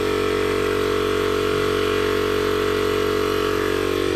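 A DIY 12V air compressor with a 40-litre tank, built from recycled gear, pumps against roughly 60-70 psi, giving a steady, loud motor drone that holds unchanged throughout without a break.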